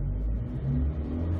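A Ford car engine, fully warmed up with the thermostat open, is revved and held near 3,500 RPM, giving a loud, steady, close mechanical roar with a deep rumble and no speech.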